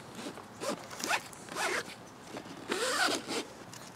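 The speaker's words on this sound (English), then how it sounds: "So I'm going to pull that out of the buckle." Strap on Nelson Rigg Hurricane dual sport saddlebags for a Honda CRF300L being pulled out through its buckle, several quick, close, faint zipping slides of webbing in short pulls.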